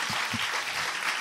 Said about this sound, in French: On peut applaudir Flamme Kurt.